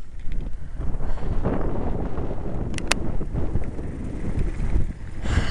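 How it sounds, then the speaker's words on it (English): Steady gusts of warm summer wind roar across the microphone during a bike ride on a country lane in the Somerset Levels, a loud continuous buffeting rumble with no voices. "it started getting windy"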